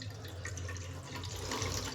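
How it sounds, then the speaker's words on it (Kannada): Tap water pours into a vessel in a steady, close splashing stream that swells slightly toward the end. "ಒಂದು ಪಾತ್ರೆಗೆ ನೀರು"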